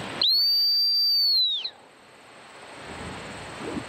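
One loud, sustained high-pitched dog training whistle blast lasting over a second, close by, then quiet outdoor background.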